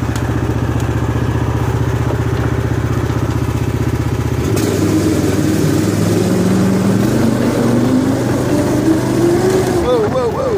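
A go-kart with a stock 420cc Predator engine riding, loud and close, a steady idling drone that shifts into rising and falling revs as it accelerates.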